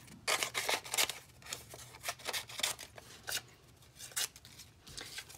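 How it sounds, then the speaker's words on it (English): Scissors snip through scrap book pages in a steady run of quick, crisp cuts with brief pauses between them, close and fairly quiet. "I think I'm just gonna cut them up"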